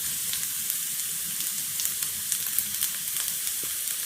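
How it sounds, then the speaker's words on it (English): Cabbage frying with onions in hot oil in a pan, a steady close sizzle with crackling pops and faint stirring throughout. "then we're going to add the cabbages into it"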